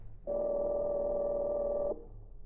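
A telephone sounds during an old Green Hornet radio drama, one steady tone lasting close to two seconds over a quiet background hum, with no talk over it.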